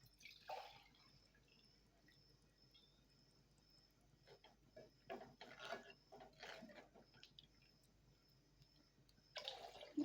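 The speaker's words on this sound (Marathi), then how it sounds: "आता याच्यात आपण पाणी टाकून घेणार आहोत" Water is poured into a pot of curry while cooking, with a few short, faint splashing bursts separated by near-silence and no talking.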